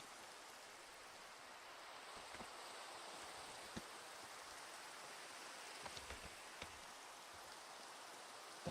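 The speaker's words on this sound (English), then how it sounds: "Okay, the rain's coming." Rain falls in the video game Minecraft with the Cobblemon mod, a soft, steady broadband hiss that stays faint and even, with a few small ticks and no talking.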